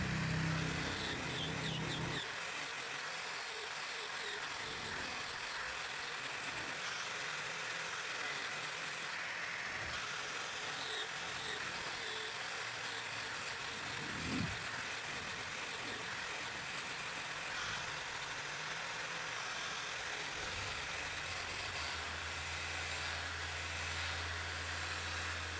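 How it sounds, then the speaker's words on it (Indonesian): An angle grinder runs continuously as it smooths a small knife forged from a horse-cart carriage spring, a loud, steady whining roar that holds through the whole stretch with slight shifts in pitch and load. "Kita haluskan juga dengan gerinda ya."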